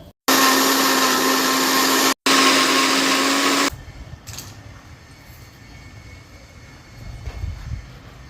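A mixer grinder whirs loudly and steadily, blending coriander, mint, tomato, green chili, garlic and ginger into a paste. It runs in two long bursts split by a brief pause, then cuts off, leaving quiet room noise.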